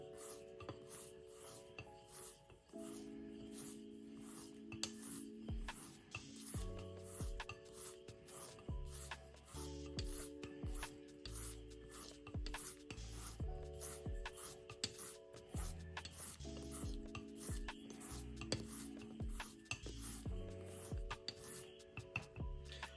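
A straight razor is honed on a coticule whetstone in steady, repeated rasping strokes, with an even rhythm of scrapes throughout and a tonal background sound beneath.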